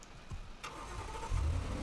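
A buggy's engine starts up in the Roblox video game, a brief crank followed by a low, steady idle that swells louder toward the end, with no talking over it.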